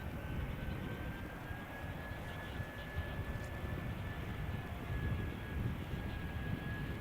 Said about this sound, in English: EasyJet arriving from Prague.